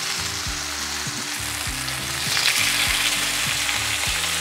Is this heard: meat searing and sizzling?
yes